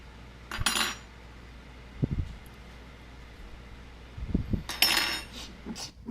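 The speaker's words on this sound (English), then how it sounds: "Clean off my spoons." Metal spoons being wiped and knocked clean against a Pyrex glass dish while hand-pouring soft plastic fishing baits: a few short clinks and scrapes in separate bursts, close by, with quiet gaps between.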